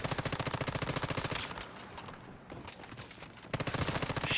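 Rapid automatic gunfire from the survival shooter Once Human, loud bursts at the start and again near the end with a quieter lull between, no talk.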